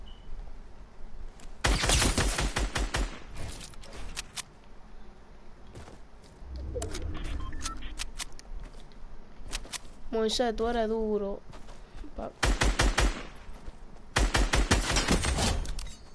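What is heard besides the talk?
gunfire from the video game Fortnite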